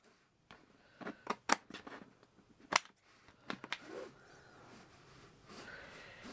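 Scissors snip away the excess edges of craft material on a vintage carousel model, giving several sharp, close cuts in an irregular rhythm followed by quieter rustling handling.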